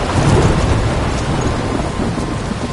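A thunderstorm in the video game Life is Strange: loud, steady heavy rain with a deep rumble of thunder swelling near the start, filling the whole stretch without any voices.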